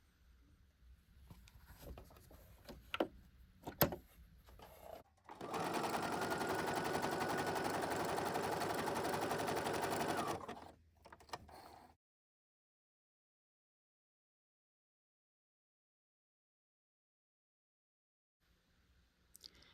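A Brother CS7205 sewing machine running a zigzag stitch: a steady, dense mechanical whir lasting about five seconds, with a few clicks and knocks before it and then silence.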